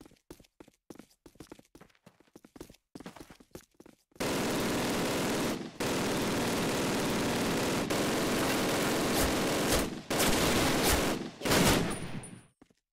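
Scattered gunshots in a video game give way to long, dense bursts of rapid automatic fire, loud and sustained with brief pauses between volleys.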